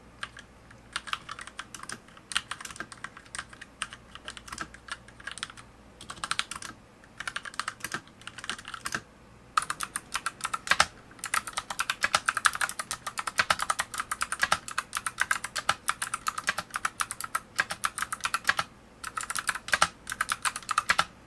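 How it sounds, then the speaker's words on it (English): Steady, rapid typing on a mechanical keyboard with clicky switches, sharp clicky keystrokes, close and crisp, continuing throughout with brief pauses and no voices. "I've never owned clicky switches before."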